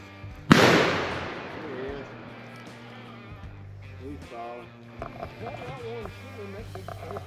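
A single sharp rifle crack close by during a bayou squirrel hunt, its echo decaying over about a second, followed by people talking.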